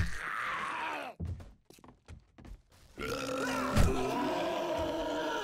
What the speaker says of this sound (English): Don't you burp at me.